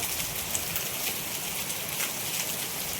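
Heavy rain pours down steadily in Porbandar, a dense, even hiss close by with no break or voices across the whole stretch.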